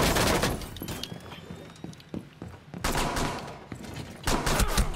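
Gunfire in a Rainbow Six Siege match comes as loud, sharp bursts of rapid shots with scattered single cracks between volleys, ending in another heavy flurry.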